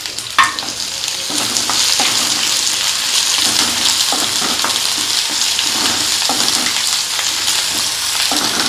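Chopped onion and dried red chillies fry in a pan with a steady, loud sizzle, and a few stirring scrapes and clinks of a utensil break through now and then. No one speaks.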